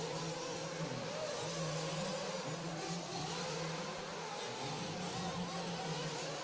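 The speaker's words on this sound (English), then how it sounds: "Nitro truck on the track with 21 minutes left on the clock" A nitro RC truck races around a track, its small engine holding a steady, buzzy drone with slight rises and falls in pitch, heard at middle distance against continuous wide-open outdoor noise.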